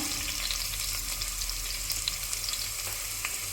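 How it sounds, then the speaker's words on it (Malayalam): Chopped onions frying in hot oil in a pan for Kerala-style breadfruit upperi, giving a steady, close, dense sizzle that runs unbroken throughout, with no voices. "എണ്ണ ചൂടായി കഴിയുമ്പോൾ ഉള്ളി അരിഞ്ഞത് ഇട്ട് കൊടുക്കാം"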